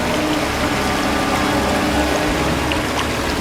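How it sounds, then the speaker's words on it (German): The river Erft pours into a freshly excavated new channel after a digger removes the last shovel of earth, a loud, continuous rushing and gurgling of flowing water with no voices. "Und das Wasser fließt in sein neues Bett."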